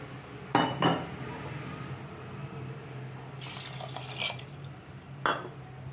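Four cups of water tipped one after another onto rice and moong dal in a pressure cooker: short splashing pours with light clinks of the cup against metal in between, close and otherwise quiet, no voices.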